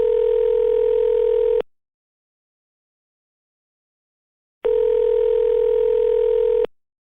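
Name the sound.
phone call being placed on a mobile phone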